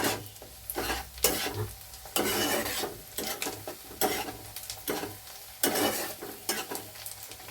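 Onions fry and sizzle in a pan as a spoon stirs them until they brown for a soya chunk keema curry. The steady sizzle sits under repeated scraping strokes of the spoon, close and fairly quiet.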